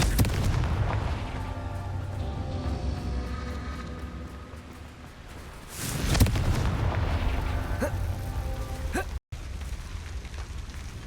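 Confringo blasting spell explosions in Hogwarts Legacy: a sharp loud blast midway through rolls into a rumbling roar, amid continuous low rumble and a softer burst near the end.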